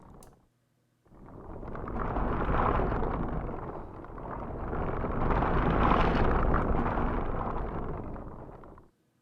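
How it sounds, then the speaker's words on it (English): A video game ball rolling sound effect from a Wwise Unity demo: a loud, rumbling roar that swells, dips briefly and swells again over several seconds before cutting off, with a short burst just before it begins. "Here is the ball rolling."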